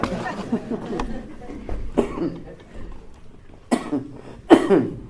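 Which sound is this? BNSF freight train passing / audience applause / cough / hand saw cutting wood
cough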